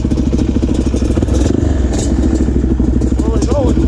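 A Yamaha Banshee 350 two-stroke dirt bike engine idles and revs up close on a trail outing, a loud continuous rattling drone with voices talking over it.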